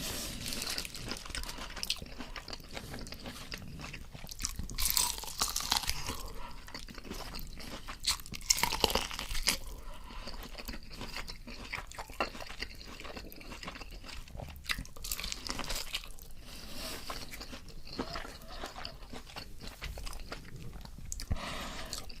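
Someone eats a KFC meal up close, with quiet, steady crunching and wet chewing bites and occasional louder crunches, and no talking.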